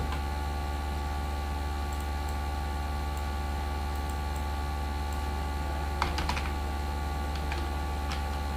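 Someone types on a computer keyboard, a few sparse, faint key clicks over a steady electrical hum.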